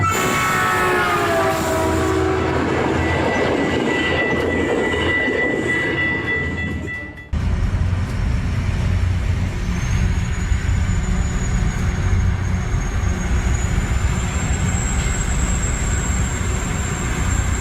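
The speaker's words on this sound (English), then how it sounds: "this rail grinder is carefully reshaping the tracks to keep the railway safe for future trains" A rail grinder reshaping railway tracks, a loud continuous grinding roar with a sharp cut partway through, then a steady rumbling drone with a faint high whine rising above it.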